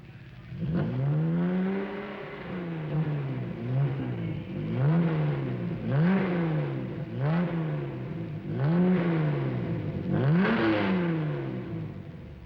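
A 1961 Jaguar car engine on a road test, revving up and easing off again and again in a steady cycle of rising and falling surges, heard close and loud with no talk.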